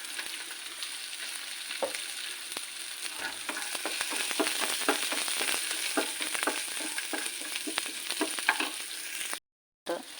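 Garlic frying in a hot pan for a simple ginger curry, a dense continuous sizzle with crackling pops and stirring scrapes, close and steady, cutting off briefly near the end.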